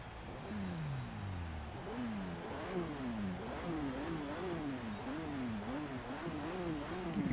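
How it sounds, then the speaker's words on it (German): Jaguar F-Pace V6 engine revving in the racing game Forza Horizon 3, a steady engine drone with repeated rising pitch sweeps as it climbs through gears, continuous and moderately loud with no talk. "So, V6 Sound, mal hören lassen."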